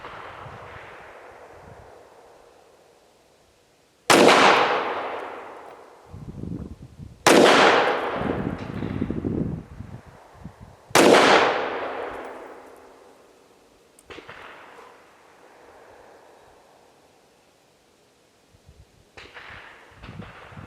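Tisas PX 5.7 pistol fired at a gun range: four loud, sharp single shots spaced a few seconds apart, each with a ringing decay, plus a fainter later shot and quiet handling noise between.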